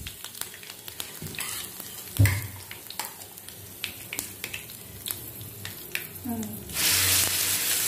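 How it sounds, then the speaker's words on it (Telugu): Ripe red chillies and curry leaves frying in a pan for red chilli gongura chutney, crackling sizzle with repeated stirring scrapes and sharp pops, swelling into a loud continuous hiss near the end, close by. "పండుమిరపకాయలు కూడా వేగిన తర్వాత 2 డబ్బులు కరివేపాకు వేసుకొని వేయించుకోవాలి."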